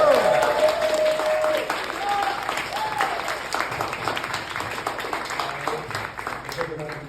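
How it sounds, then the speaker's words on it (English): Audience applause at a live event, a sustained crowd clapping for about seven seconds with cheering voices and some talk mixed in, gradually easing toward the end. "I want y'all to give a round of applause to her."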